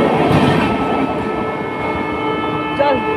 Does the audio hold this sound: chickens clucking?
no